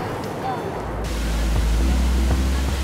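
Sapa waterfall on the Nimanga River in Minahasa, a steady broadband rush of falling water that swells louder and deeper after the first second and holds close and unbroken.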